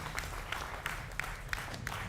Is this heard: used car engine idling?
no